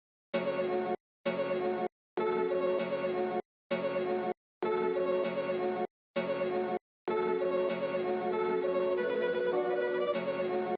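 A hip hop beat built from a sampled loop, sliced into abrupt stop-start chunks separated by brief silences before running continuously at the end.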